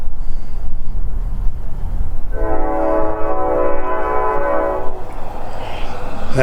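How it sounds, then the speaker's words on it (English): A train horn sounds one long sustained blast over the rumble of a passing train in Kuna, Idaho, the rail noise continuing before and after. "You can hear the train over there, huh?"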